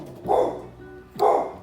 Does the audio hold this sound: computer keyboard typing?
no